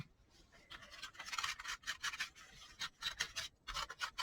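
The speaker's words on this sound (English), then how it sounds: "Let's get our little sandpaper." Purple sanding discs rubbing and rasping in bursts against a craft surface, close and fairly quiet, with short pauses between strokes and no talking.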